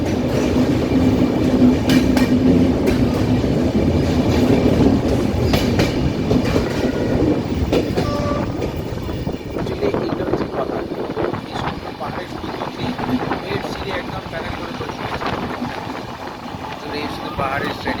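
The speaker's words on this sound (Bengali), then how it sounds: "টানেলের ভিতরের আওয়াজ কেমন হয় সেটা একটু শোনানোর চেষ্টা করবো" Passenger train on the Araku Valley line runs through a tunnel, a loud enclosed rumble and rolling clatter with rhythmic wheel clicks that continues throughout and eases slightly in the latter half.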